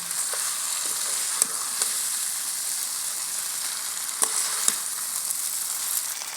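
Vegetable noodles stir-frying in a pan, a steady close sizzle with a few sharp clicks and scrapes from stirring, no voices.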